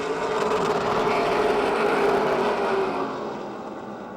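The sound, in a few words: stock cars racing on speedway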